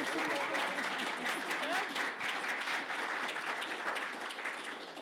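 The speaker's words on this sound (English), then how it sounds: "please give these candidates a round of applause" Steady, dense applause from an audience at a Republican candidates' forum, continuous clapping that holds at an even level and tapers slightly at the end.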